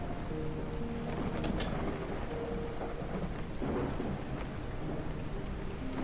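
Heavy rain and rolling thunder in the mouse city-building game Whiskerwood: a dense, constant downpour hiss with low thunder rumbles surging through it, steady and fairly quiet, without speech.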